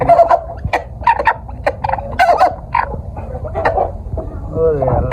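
Tiger chickens and native chickens kept together in one enclosure cluck in short, irregular bursts close by. The calls overlap with busy rustling activity in the pen.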